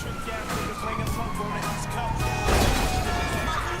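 A police siren wails in Grand Theft Auto V amid engine roar and traffic noise, with a louder crash or rumble partway through.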